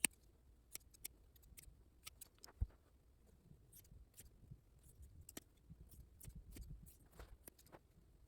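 Scissors cut through cushion fabric for a patio chair cushion in a series of quiet, sharp snips spaced irregularly over several seconds, close by in an otherwise hushed room.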